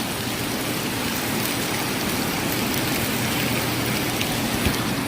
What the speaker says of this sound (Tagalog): Yan, meron ulan.